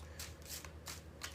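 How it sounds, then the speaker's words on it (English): Tarot cards are shuffled by hand in quiet indoor surroundings, four or five faint, crisp riffling bursts spaced evenly and heard up close with no speech. "I'm going to keep shuffling for the Aquarius Collective"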